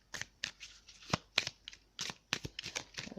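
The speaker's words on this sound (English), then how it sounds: "I'm just shuffling the cards really quickly." A deck of playing cards shuffled quickly by hand, not riffled, giving a rapid run of sharp papery flicks and slaps, close and crisp against a quiet background.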